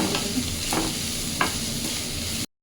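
Onions with green chilli, salt and turmeric frying in a pan, a constant close sizzle broken by a few scraping stirs of the spatula, ending abruptly.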